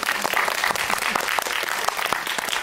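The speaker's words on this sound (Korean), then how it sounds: "박수 한번 주세요." Audience applause at a film screening with a cast talk: steady, moderately loud clapping from a seated crowd, with individual claps standing out over several seconds.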